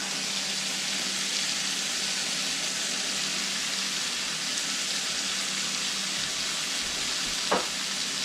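Onions for chicken curry fry in a pan with a steady, close hiss of sizzling, broken only by a single light clink near the end.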